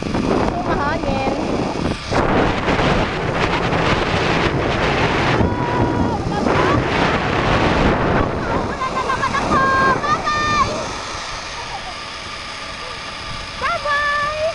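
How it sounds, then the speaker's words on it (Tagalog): Strong wind buffets the microphone outdoors at a zipline site near a pool, a loud continuous roar with gusts that eases slightly toward the end, while voices talk over it. "mahangin"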